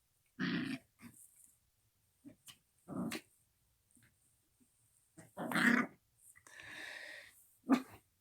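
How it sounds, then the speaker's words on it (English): A dog growls and huffs in short, scattered bursts while playfully attacking a person's hand, close but fairly quiet, with some wheezy snorts between quiet gaps. "Got my dog attacking my right hand"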